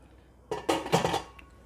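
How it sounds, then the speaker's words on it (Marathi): Metal pressure cooker lid fitted onto the pot of egg biryani, a short clattering scrape and clunk of metal lasting under a second, close by. "आता कुकरचं झाकण लावायचं आहे"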